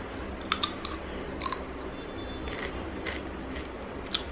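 Someone bites into and chews fried ragi roti, with a few sharp crunchy bites close to the mic followed by softer chewing, all fairly quiet with no talking.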